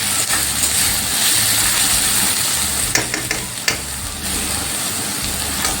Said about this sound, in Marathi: हा कांदा फ्राय होऊन द्यायचा.